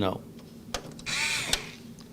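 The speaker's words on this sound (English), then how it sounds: "Thank God I have this electric screwdriver." An electric screwdriver drives motherboard screws during a gaming PC build, giving a short close whirring burst framed by sharp clicks and handling knocks.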